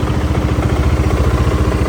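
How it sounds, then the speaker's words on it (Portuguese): A Dafra Maxsym 400i scooter idles close up with a rapid, even low-pitched pulsing and a faint clatter from its CVT, loud and steady throughout. "Ver se dá pra escutar o barulho dessa moto."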